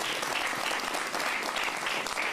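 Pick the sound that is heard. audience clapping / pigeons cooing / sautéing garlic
audience clapping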